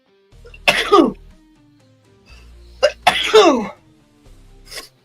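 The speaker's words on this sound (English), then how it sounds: "I've the sneeze." Two sharp sneezes, close and fairly loud, separated by a pause, with a quieter burst afterward and low background hum.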